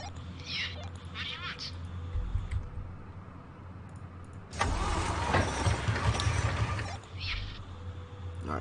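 A vehicle engine in the post-apocalyptic video game Surviving the Aftermath, a steady low hum that swells louder and rougher midway before easing back, with game sound effects mixed in and no talking.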